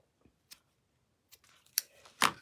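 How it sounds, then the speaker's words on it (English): A few sharp scissor snips cutting ribbon ends, sparse at first and then quicker and louder near the end, in an otherwise quiet room. "bring in your scissors and snip away."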